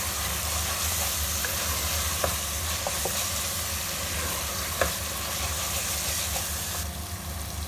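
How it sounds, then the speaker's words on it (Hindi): Fried masala for a fish curry sizzles steadily in oil as dried fenugreek leaves are stirred in, with a constant close frying hiss and a few faint clinks of the spoon against the pan. "अब मैं इसमें कसूरी मेथी शामिल करूँगी और इसे अच्छी तरह से मिक्स कर लूँगी।"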